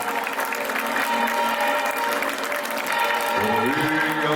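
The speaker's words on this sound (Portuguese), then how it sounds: "Mais palmas para Nossa Senhora!" A crowd at a religious festival honoring Our Lady applauds in a continuous clatter, with music or singing rising underneath toward the end.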